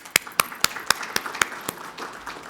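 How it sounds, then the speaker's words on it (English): Sparse, evenly spaced hand claps ring out in a slow rhythm at a book launch event, about seven sharp claps fading into a thin murmur of applause. "Let's give a warm round of applause."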